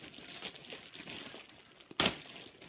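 Crinkly plastic packaging on a Sky Riders toy being handled and unwrapped, soft scattered rustles building to one sharp loud crackle near the end, close up with no talk.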